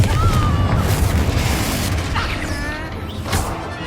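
A Confringo blasting spell goes off in the Hogwarts Legacy video game, a loud booming burst with crackling, fizzing debris that fades, then a brief flare near the end.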